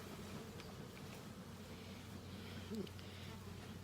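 Honey bees buzzing around the entrance hole of a backyard hive, a continuous close insect hum with one louder bee passing near partway through.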